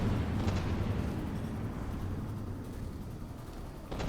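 A torpedo hit on a battleship in a naval video game sounds as a deep, rumbling explosion that sustains and slowly fades, followed by a fresh low burst at the end.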